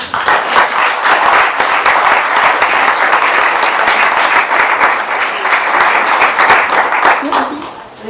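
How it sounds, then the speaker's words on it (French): An audience at an herbalists' gathering at the Fête des Simples applauds the speakers, loud, steady clapping sustained for several seconds before tapering off at the end. "je crois qu'on peut les applaudir"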